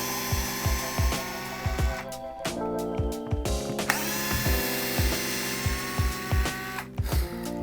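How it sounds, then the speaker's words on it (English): Screws being removed from a wall light switch during a dimmer switch installation, with repeated ratcheting clicks and mechanical squeaks in a steady rhythm, close and clear with no talking. "we're going to remove the screws from the switch"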